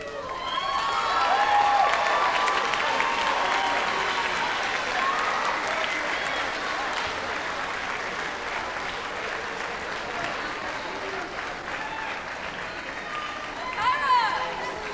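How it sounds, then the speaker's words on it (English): Sustained audience applause fills an 8th grade recognition ceremony at a middle school honoring honor roll recipients, a dense, steady roar of many hands clapping for the full length with a slight swell near the end. "One more time, a huge round of applause for our honor roll recipients."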